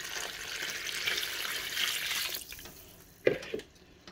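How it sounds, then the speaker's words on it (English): Fresh water pours into a cooking pot for pork trotter soup with a continuous splashing rush that stops partway through, followed by a couple of soft knocks and drips. No one speaks. "We finished taking up the water and now we pour some"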